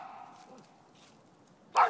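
A single sharp dog bark bursts out near the end, loud and close, after a stretch of quiet room hush.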